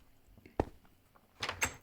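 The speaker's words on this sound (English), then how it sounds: "So now you can open and close your door." A wooden door in the Minecraft video game is opened and then closed, two short knocking clunks spaced about a second apart over a quiet background, with no talking.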